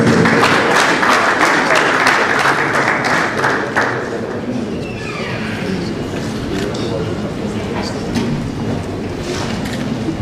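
Applause from the crowd at the Nigeria Youth Decide Conference, loud and dense at first, then easing to a softer, sustained clatter as the welcome continues.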